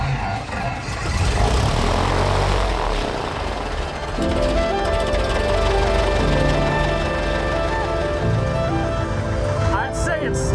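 Small airplane engine cranking and catching after an Alaskan winter, settling into a steady, loud propeller-driven drone that fills the scene close by, with a brief dip near the start and a shift in tone near the end.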